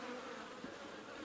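Honeybees buzz steadily around a horizontal beehive, a dense continuous drone close by and alone, holding an even level throughout.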